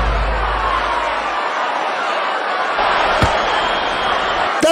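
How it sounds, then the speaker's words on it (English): Spectators in the MMA Arena video game fill the arena with a steady wash of crowd noise and cheering, broken by a single sharp thud partway through. "This crowd is so into this fight."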